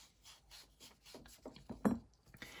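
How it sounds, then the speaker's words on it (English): Cloth soaked in rubbing alcohol wiped across parts of a disassembled WE Knives Kitefin folding knife to degrease them, a series of soft close rubbing strokes ending in one slightly firmer scrub, with no talking. "hit this with some rubbing alcohol here. And clean this off just to degrease everything"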